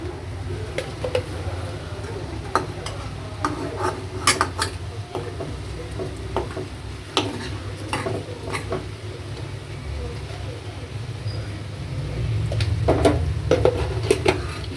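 Salt being stirred into a dish cooking in a pot on the stove, with scattered light scraping clicks of a spoon against the metal over a steady low background hum, growing slightly louder near the end.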